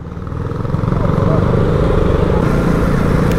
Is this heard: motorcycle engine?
yes